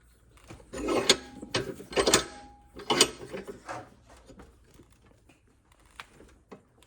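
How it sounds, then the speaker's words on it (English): An old control arm bushing being worked out of a Dodge Omni, giving clustered metallic clanks and ratcheting knocks up close, then quieter scattered taps as the work trails off. "I'm going to work on busting this bushing out and putting the new one in."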